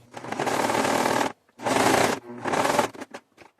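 Sewing machine running a straight stitch on fabric, three bursts of close, rapid mechanical stitching separated by short pauses, followed by a few faint clicks.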